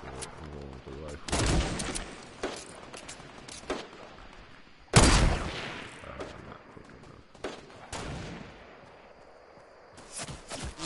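Rifle gunfire in the video game Fortnite, bursts of loud shots and heavy impacts spread through the stretch, with a voice talking between them.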